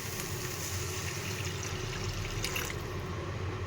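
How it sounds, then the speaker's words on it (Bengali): Hot water pours into a cooking pot of well-fried, thickened curry, a soft steady splashing and trickling stream with faint drips, quiet and close. "এখন আমি এটার মধ্যে গরম জল ঢেলে দিব।"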